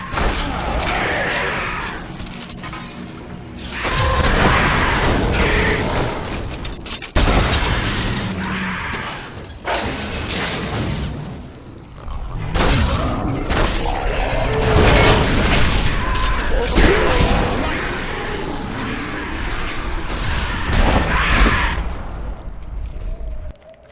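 Siege weapons attack in the action role-playing game Diablo 3, with heavy booms and clanking mechanical impacts over a loud, dense battle din that swells and drops throughout.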